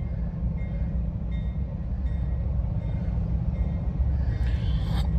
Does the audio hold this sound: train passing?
yes